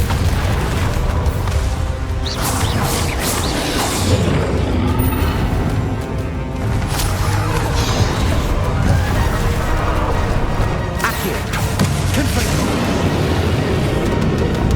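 Confringo fire spell blasts in Hogwarts Legacy's final battle, loud booming impacts within a constant, dense combat roar with occasional voices.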